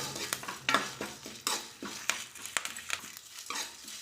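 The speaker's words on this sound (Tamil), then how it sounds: "நல்லா வறுத்துடலாம்" Cumin and lumps of asafoetida are dry-roasted in a pan for curry leaf rice. A spoon scrapes and clinks against the metal in irregular strokes over a soft sizzle, close by and with no talk.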